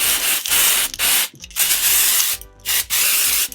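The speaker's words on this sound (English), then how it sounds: "giving it a violet spray on an already matronly looking hairstyle" Violet hair spray sprayed onto a synthetic wig in loud, close bursts: about six hissing sprays of roughly half a second each, separated by short pauses.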